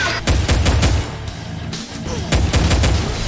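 Cannon gunfire in the Free Fire video game, loud and close, in repeated heavy booming shots with quick rapid strikes in clusters, broken by a brief lull before another volley.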